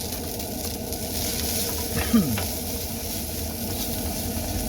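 Food browning in a pan gives off a close, continuous sizzle with a faint scrape or stir near the middle. The cooking sounds carry on steadily underneath.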